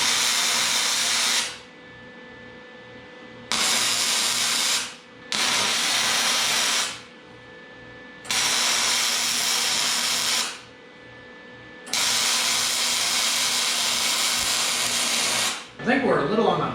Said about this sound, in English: I'm gonna set the tripod up and we'll throw some welds on that